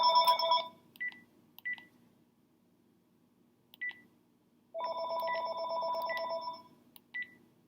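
A household telephone rings in a quiet home, sounding as a short series of bright electronic ring bursts with pauses between them, followed by a longer sustained ring and a final brief chirp, with no one talking.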